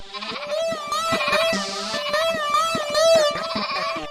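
A goat bleats repeatedly and loudly close by, a series of wavering, nasal cries running almost without pause, heard alone with no talking.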